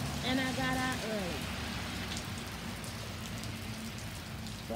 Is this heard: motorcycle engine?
no